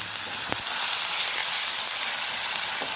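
Halved tomato and chopped vegetables fry in a pan for hotel-style khara bath, giving a steady close sizzle with one brief knock early on.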